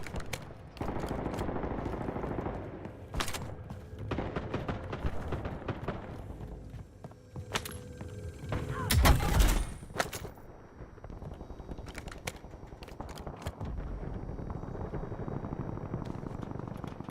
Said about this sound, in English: dude shooting at me behind me